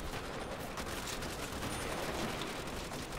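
Dense, continuous gunfire from a Call of Duty custom zombies map, a steady barrage of overlapping shots holding at full loudness throughout with no pauses.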